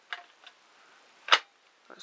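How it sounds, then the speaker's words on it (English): A battery pack slid and clicked onto a Makita 18V Li-ion cordless drill, with a few small plastic taps and one sharp, close latching click, in otherwise quiet surroundings. "Battery goes on."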